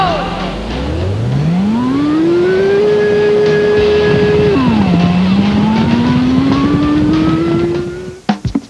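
A hidden Porsche in a racing video game revs up, its engine note climbing steeply, holding high, dropping briefly, then rising again in one loud continuous pull with no talk, ending in a few abrupt clicks.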